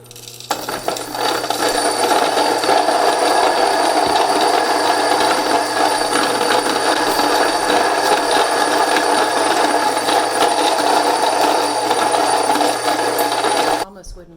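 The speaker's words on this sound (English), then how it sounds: "Turn my mill on, add some corn." A Mockmill Lino 100 grain mill grinds plain corn into cornmeal at a fine setting, giving a loud, steady mechanical whir and rattle that starts abruptly and runs continuously for about thirteen seconds before cutting off, with no talking.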